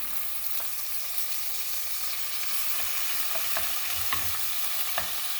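Onion frying in three ladles of oil together with chicken strips, a steady soft sizzle broken by occasional scrapes and taps of a spoon stirring the pan.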